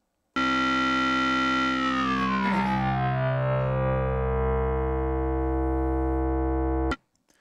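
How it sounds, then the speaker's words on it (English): A sustained Sequential Pro 3 wavetable synthesizer tone with metallic, ring-modulated overtones that sweep and shift, held steady and loud for several seconds before cutting off abruptly. "that one obviously has some pretty strong ring mod type of tones to it"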